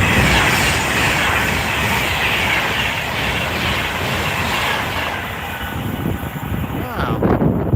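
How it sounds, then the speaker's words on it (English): A Pendolino train rushing past on the West Coast Main Line, a loud, sustained roar with heavy wind buffeting on the microphone, swelling with a rattling burst near the end. "Little Pendolino."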